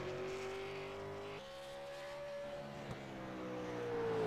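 Super late model race car lapping in qualifying at Five Flags Speedway, a sustained high engine drone whose pitch rises and shifts as the car comes off the turn and accelerates, steady and fairly distant, with no talking.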